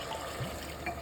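Hot water poured into a pot of cooked, braised mutton, giving a steady, close liquid rush with a soft splashy swell partway through, with no talking.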